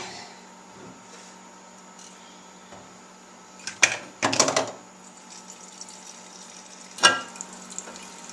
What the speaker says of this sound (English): I'm just going to pour it right into here.